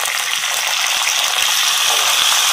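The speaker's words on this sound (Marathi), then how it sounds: "आता यामध्ये पहिल्यांदा शेंगदाणे घालायचे आहेत." Peanuts fry with browned onions in a pan, giving a loud, steady, close sizzle with bright hissing and faint stirring scrapes throughout.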